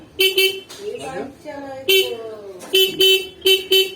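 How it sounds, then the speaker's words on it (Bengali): Toy bike horn sounded in repeated short beeps near a house garden, several sharp bursts in quick pairs, with a voice talking between the honks. "হর্ন বাজাও হর্ন বাজাও"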